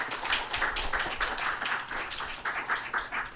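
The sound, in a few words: applause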